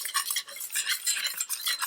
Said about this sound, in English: I add just a little bit, enough to kind of make like a paste, if that makes sense, and then you whisk it